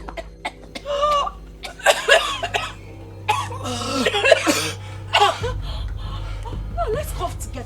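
Several people cough together in a room, with harsh bursts repeating over a low steady hum and some laughter mixed in.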